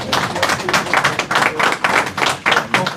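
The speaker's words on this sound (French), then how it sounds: "Je crois qu'on peut l'applaudir quand même." An audience at a Paris conference-debate claps in a fairly close, uneven patter of individual hand claps, a small group rather than a roaring crowd, lasting a few seconds.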